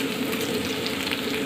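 Onion, chili and garlic fry in a pan, giving a dense, continuous close-up sizzle with faint stirring crackles throughout.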